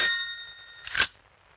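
A telephone gives a bright electronic ring that fades, then a second ring sounds, clear and close in a quiet room.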